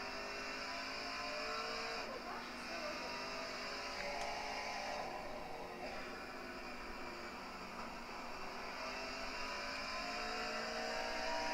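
Racing trucks of the Full Throttle Truck Championship accelerate around the Sonoma track, engines rising and falling in pitch through gear changes, heard at a moderate distance as a continuous droning roar.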